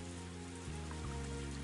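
Rain falling in the Higurashi visual novel game, a steady hissing wash of rainfall mixed with a low sustained tone that steps down in pitch partway through.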